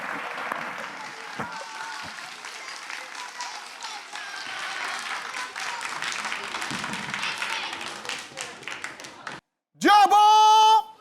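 Audience applause at an Islamic song competition in Cocody, dense and sustained clapping with scattered louder claps that thins out near the end, then gives way to a loud held tone.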